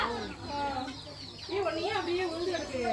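Hens cluck and chirp in a busy, continuous stream, close by, with soft background chatter mixed in.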